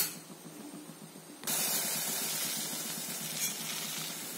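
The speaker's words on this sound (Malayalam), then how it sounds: "പാല് നന്നായിട്ട് തിളച്ച് വന്നിട്ടുണ്ട്." Milk with turmeric boiling on a stovetop gives a steady, close hiss and bubbling that jumps louder about a third of the way in and stays even to the end, with no talking.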